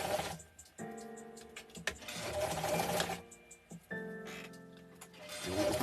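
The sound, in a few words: sewing machine stitching along a seam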